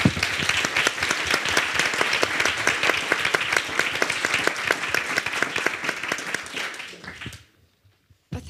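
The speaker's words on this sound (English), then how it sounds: "please join me in a round of applause to thank you all my panelists" A conference audience applauds a policy panel at its close, dense steady clapping that fills the room for about seven seconds and then cuts off into near silence.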